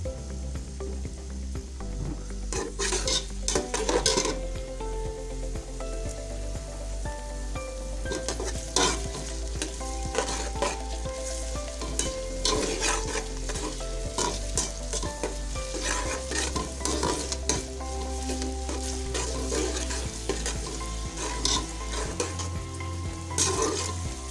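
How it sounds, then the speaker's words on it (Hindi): Sliced onions frying in hot oil over a raised flame for tahari gosht, browning to golden with a continuous loud sizzle and repeated scraping, stirring strokes of a spoon against the pan, no voices. "ऑयल के अंदर मैं प्याज ऐड करूँगी सबसे पहले।"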